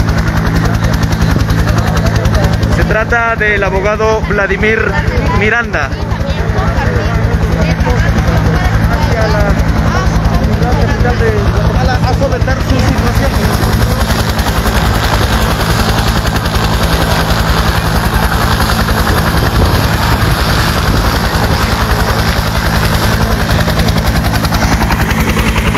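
An army helicopter runs loud and steady throughout with its rotor and engine din, while someone talks over it nearly the whole time.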